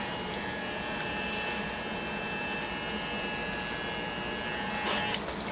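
An Andis Master electric hair clipper gives a steady, close buzzing hum that holds evenly throughout, with no talking.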